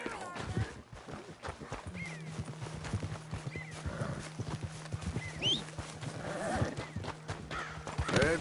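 Horse hooves clip-clop steadily while a horse neighs and snorts, with people talking over the sounds, in the video game Red Dead Redemption 2.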